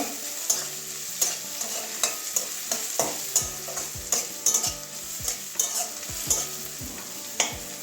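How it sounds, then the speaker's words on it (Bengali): Fresh garlic fries and sizzles in a pan while a spoon stirs it in regular scraping strokes, each knock against the pan clear and close over a steady hiss, with no voices. "এবারে আবার রসুন কচি একটু দিয়ে দিচ্ছি এটা একটু নাড়িয়ে নেব কাঁচা গন্ধ যাওয়া পর্যন্ত"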